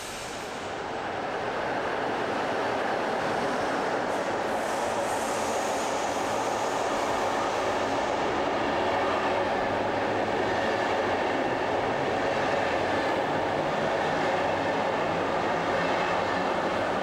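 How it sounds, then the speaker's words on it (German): A colourful class 112.1 electric locomotive hauls a train rolling through Berlin-Friedrichstraße station, a continuous steady rumble of wheels and wagons with faint rail squeal, moderately distant and unbroken for the whole stretch, no voices. "Durch den Bahnhof Berlin-Friedrichstraße rollt diese bunte Garnitur."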